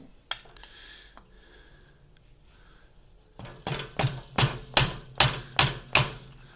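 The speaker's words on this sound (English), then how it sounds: "You're hammering against the seal, not the inside of the soft metal." A hammer taps a front main seal into a Saab B234/B235 engine, first a few faint knocks and scrapes, then a steady run of about eight loud, evenly spaced metallic blows close up.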